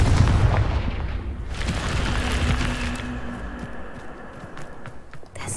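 A Confringo spell blast in the game Hogwarts Legacy, heard as a loud, rumbling fiery boom at the start that decays into crackling debris and a fading tail, with no talk.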